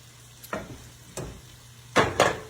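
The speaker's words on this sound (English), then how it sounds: "So we're going to put our cabbage in that we chopped up." Chopped cabbage drops into a hot pan with kielbasa while cooking black-eyed peas, giving several short sizzling, rustling bursts, the last two close together and loudest, over quiet background.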